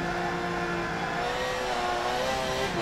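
An Aston Martin Vulcan in Forza Motorsport 7 on a snowy track, its engine holding a steady, loud, rising high-pitched whine under acceleration, continuous and close with no talking.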